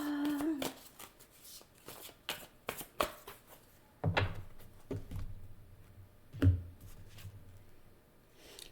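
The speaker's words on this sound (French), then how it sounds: "Moi, je vais continuer à brasser, là. J'ai trop de cartes." Tarot cards are shuffled by hand in a series of soft, close riffles and papery slaps, quiet and irregular, with a brief pause between bursts.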